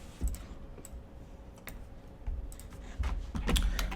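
Code is typed on a computer keyboard in irregular bursts of soft, close-up key clicks, with a few louder taps near the end and quiet room hum underneath.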